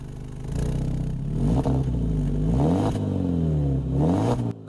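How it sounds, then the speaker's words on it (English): A BMW E90 318i engine running close by, its note rising and falling through several revs over a steady idle, loud with no talk. "Here's a little sound check on the E90."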